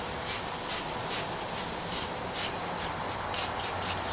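Short bursts from a spray paint can tapped out as dots, about a dozen evenly spaced hissing puffs roughly every half second, close and fairly quiet over a steady background.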